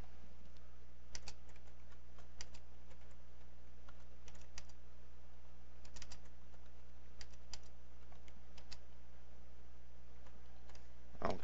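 Quiet typing on a computer keyboard while setting up software, scattered bursts of soft key taps over a low steady hum, no voices.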